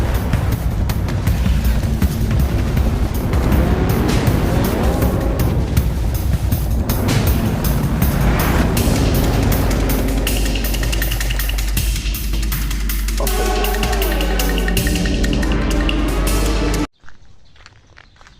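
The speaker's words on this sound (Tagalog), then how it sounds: "Parang motor ni Tito Monty ito." A motorcycle arrives at a small rural farm in the morning, its engine running loud and close throughout, with a rough steady drone and shifting revs before cutting off abruptly near the end.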